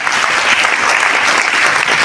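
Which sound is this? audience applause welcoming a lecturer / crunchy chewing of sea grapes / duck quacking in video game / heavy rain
audience applause welcoming a lecturer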